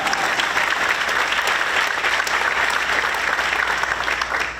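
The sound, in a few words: audience applauding and cheering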